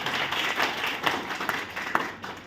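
Audience applause fills a hall during a business plan presentation for a clothing company, a steady mass of hand claps with sharper individual claps popping out, sustained throughout at moderate distance.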